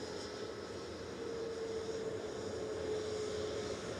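A Lufthansa airliner taxis at Manchester Airport as a steady, distant engine hum with a faint sustained whine, even and unbroken throughout.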